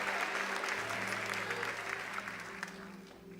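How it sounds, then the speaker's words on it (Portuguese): Church congregation bursts into sustained applause for a few seconds, dense clapping from a large crowd that tapers slightly toward the end, with a faint organ-like tone held underneath. "Você consegue aplaudir ao Senhor pela sua palavra agora?"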